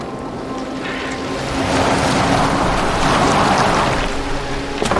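Boat sailing across open water in Assassin's Creed Valhalla, a continuous rushing wash of waves and hull splash with wind, swelling louder midway, with no talking.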